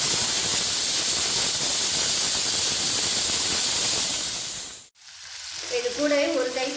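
Chopped green chilies and onions fry in hot oil in a pan, a loud, dense sizzle running steadily for several seconds before cutting off abruptly, followed by a quieter tail of faint tonal clinks.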